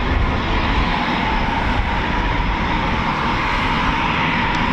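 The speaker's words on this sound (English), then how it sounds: "So we got one Typhoon taxi in here." A Eurofighter Typhoon FGR4 fighter jet taxis near an RAF runway, its engines a loud, steady, broadband roar that stays constant throughout without a break.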